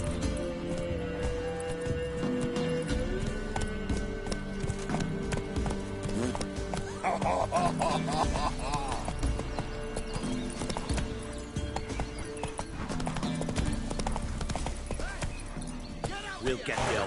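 Horse galloping in The Witcher 3, rapid rhythmic hoofbeats clopping steadily throughout, mixed with game music and occasional voices talking.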